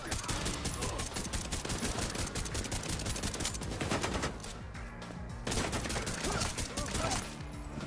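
Rapid, loud gunfire in The Division 2 video game, with dense bursts of shots running almost continuously, a brief lull in the middle, then more firing.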